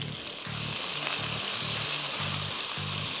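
A whole onion frying in a hot pan for Afghani karahi, a steady loud sizzle throughout with a low repeating hum running beneath it.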